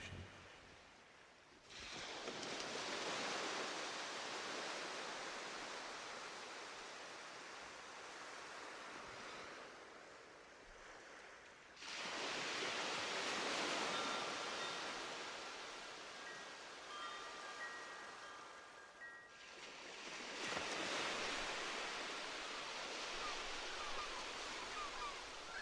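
Broad ocean surf rolls onto a sea shore in three long swells, each rising, holding as a loud wash, then dropping off, with no voices over it.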